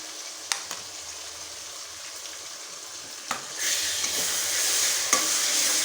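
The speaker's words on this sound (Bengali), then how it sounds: "এবার আমি দিয়ে দিচ্ছি পেঁয়াজ বাটা।" Onion paste goes into a pan of softened, salted tomato for a wedding-style chicken curry, bringing a few spoon clinks and then a sudden surge of loud hissing sizzle that continues steadily as it is stirred.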